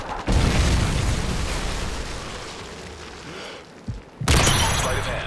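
A Predator missile strike in the video game Modern Warfare 3 lands as a loud, rumbling blast that rolls on and slowly fades, then a second sharp burst hits near the end.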